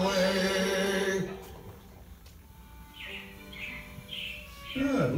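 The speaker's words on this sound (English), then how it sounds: "It looks like the Robins are getting ready to celebrate Valentine's Day today." Animatronic robins chirp in a theme-park show, a few short bright bird calls in bursts after a loud musical passage fades, fairly near and clear.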